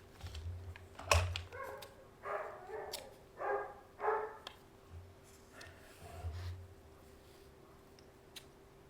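A dog barks several times in short bursts, moderately close, with quiet room noise between the barks, during indoor papercraft work.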